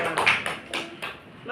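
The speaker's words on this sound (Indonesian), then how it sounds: "Beri tepuk tangan dulu untuk Basahnas." Students clap in a classroom, a few quick rounds of hand claps heard close and fairly loud, with brief talk mixed in.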